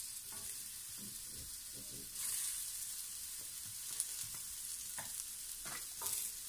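Pepper slices laid on a grill pan brushed with olive oil give a faint, steady sizzle, broken by soft clunks and taps as each slice is set down.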